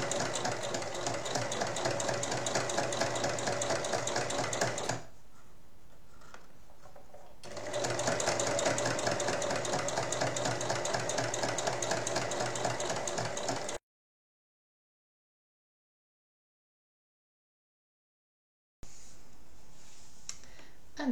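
A sewing machine stitches fabric pieces for an apron in two fast, whirring runs separated by a short pause, then falls silent before starting up again.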